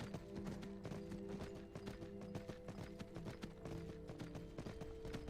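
Rapid clip-clop of horse hooves trotting in a steady rhythm in the video game Skyrim Special Edition, fairly close, with a faint background hum and no speech.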